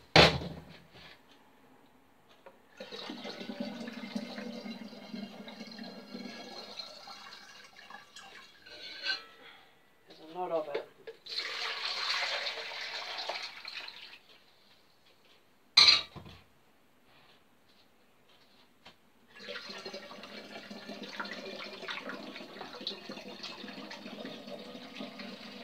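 Cold boiled water is poured into a container while making elderflower champagne, coming in several separate bursts of splashing and trickling with quiet pauses and a sharp clunk between them.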